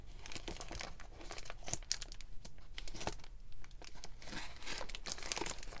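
Thin plastic bag crinkling and tearing after being cut open while unpacking craft supplies, a steady close rustle with crisp louder crackles throughout.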